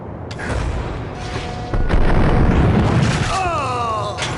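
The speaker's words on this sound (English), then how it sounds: "they're throwing grenades down at me now too" In the Max Payne video game, booming explosions from thrown grenades roll out loud and heavy, with a big blast near the middle followed by rumbling and debris amid shooting, while someone talks over the noise.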